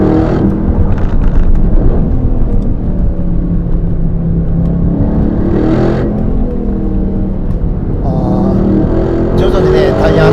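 A 2025 Aston Martin Vantage pulls hard up through its revs on a winding road, a steady loud engine roar and cabin drone rising and falling across the run, with someone talking over it throughout.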